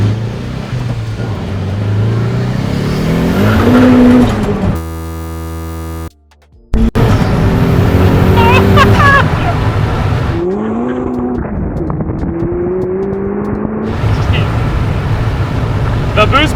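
A modified turbocharged car with a maxed-out turbo making about 500 horsepower accelerates hard through its gears. The engine note climbs repeatedly between shifts and stays loud throughout, with a brief drop-out in the middle.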